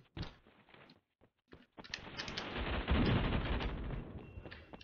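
Gunfire in the Roblox game Phantom Forces, a few sharp isolated shots early, then a sustained burst of rapid firing and clatter that fades out, moderately loud with no talking.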